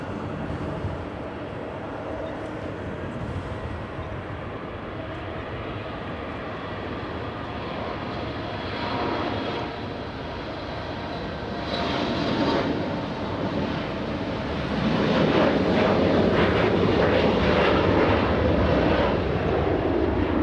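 A SkyWest E175 taxiing at LAX gives off a continuous jet engine roar that swells louder toward the end, steady and broadband with no voices.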